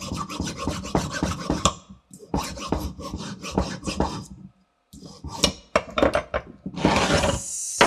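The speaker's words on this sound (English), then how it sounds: "It's a big file or the small one. A little bit grates away." A hand file rasps back and forth across a screw thread in quick, loud repeated strokes, in bursts separated by short pauses, up close and without talk.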